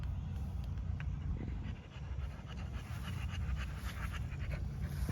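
Dog panting steadily and rhythmically close by, a continuous huffing breath with faint background noise and no voices.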